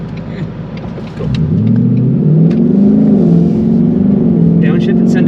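An E85-fueled Ford Mustang with a tuned intake accelerating hard on a pass, the engine note jumping sharply after a downshift and then holding a loud, rising roar close by, with voices underneath.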